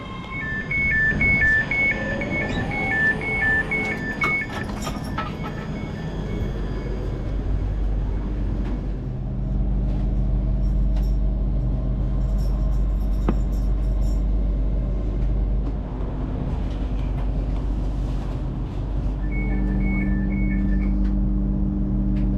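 A train arriving at a station platform on the Strathclyde network, bound for Glasgow Queen Street: a steady low rumble of wheels and motors with occasional bright beeping tones, continuous and fairly loud, without talk.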